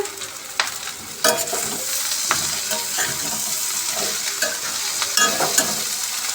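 Sliced onions and bitter gourds sizzle steadily in a pan while a spoon stirs them, giving irregular scraping and clattering strokes over a loud, continuous frying hiss, close up with no voices.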